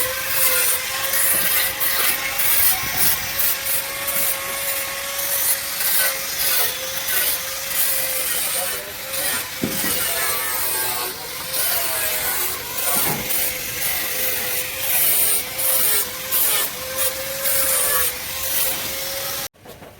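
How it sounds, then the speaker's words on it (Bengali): Machines cut and smooth carved decorative designs at a Durga Puja pandal workshop, making a continuous grinding, rubbing whine with a steady tone and repeated scraping strokes, fairly close and ending abruptly. "এখানে কাটিং চলছে এবং দূরে দেখুন, দূরে ওখানে ফিনিশিং কাজ চলছে, ওখানে মেশিন দিয়ে ফিনিশিং করছে ডিজাইনটা যাতে স্মুথ থাকে"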